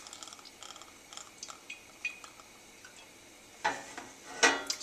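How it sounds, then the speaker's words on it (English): Extra virgin olive oil hits a very hot pan before garlic rosemary potatoes go in, with faint clinks of cookware followed by a brief crackling sizzle that flares twice near the end, no voices present. "Okay, now our pan is ripping hot. It's time for the fun part. Let's add some extra virgin olive oil."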